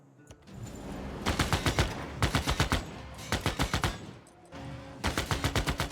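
Machine-gun fire in Civilization VI as a machine gun unit comes under attack: three loud, rapid bursts of shots, each about a second long, separated by short pauses over a steady rumbling backdrop, with no talking.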